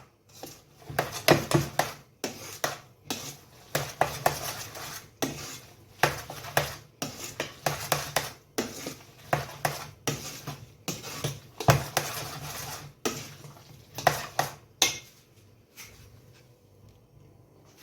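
Hake tartare being mixed with olive oil in a bowl, heard as rhythmic bursts of utensil scraping and clinking against the dish, repeated in quick strokes and then tapering off near the end.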